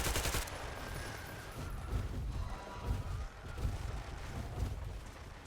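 Gunfire in the video game Metro Exodus, rapid repeated shots heard as a string of low, muffled thumps over a steady rumbling background, beginning with a sharp burst.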